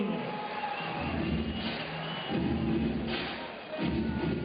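Beach volleyball crowd at a World Championships bronze match in Rome roaring and cheering after a point, a sustained wash of voices that swells in waves, loud and steady across the stadium.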